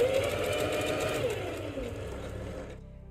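A sewing machine runs in a steady fast whir while stitching fabric for a bread bag, the motor note easing and slowing before stopping abruptly near the end.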